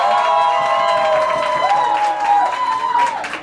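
A TV show studio audience claps and cheers loudly for a short stretch, dense applause and crowd noise running throughout with tonal whistles and voices over it.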